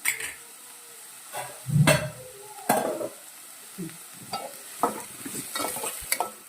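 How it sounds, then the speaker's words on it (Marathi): A ladle stirs cooked rice in a pot on a high gas flame, giving a few scraping, clinking strokes against the metal with brief sizzle-like bursts, close and moderately loud, with no talking. "भातात पळी मारून घेते तर भाताला आता झाकण मारते"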